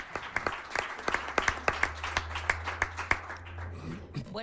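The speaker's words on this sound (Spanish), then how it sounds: "yo voy a pedir un fuerte aplauso a la compañera moderadora de esta emisora de radio y de este debate" A debate audience claps for the female moderator of a radio station's Senate candidates' debate in Fuerteventura: a modest crowd's sparse, distinct hand claps in a steady patter over a low hum, thinning out as a voice begins at the end.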